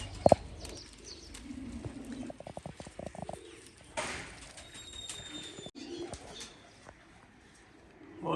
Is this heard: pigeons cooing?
yes